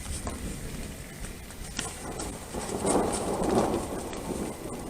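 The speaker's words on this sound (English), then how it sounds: "I want to get the lightning too, but the thunder too." Thunder during a rainstorm at a campsite: steady, dense rain patter fills the whole clip while a low, rolling rumble swells near the middle and slowly fades, with no voices.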